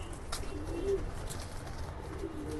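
Pigeon cooing inside a loft of highflyer and racer pigeons, low soft coos repeating steadily at moderate distance with no talk over them.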